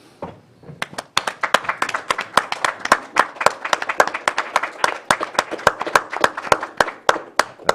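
Applause from the audience at a Lake County Board of Supervisors meeting, following the adoption of a proclamation: a steady run of sharp, fairly close hand claps lasting several seconds after a short quiet start.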